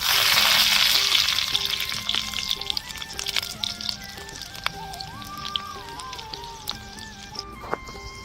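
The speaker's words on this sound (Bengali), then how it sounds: "রসুনটা ভাজা হয়ে গেছে, শাকটা দিয়ে দেবো।" Garlic cloves, whole cumin seeds and green chillies fry in hot oil in a kadai. A loud opening sizzle gradually settles into softer crackling, with light clinks and stirring.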